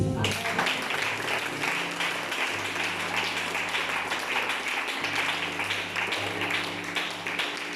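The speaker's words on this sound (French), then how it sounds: "Acclamez Jésus" Sustained applause from a church congregation, dense and steady throughout with a low musical drone underneath, no pauses.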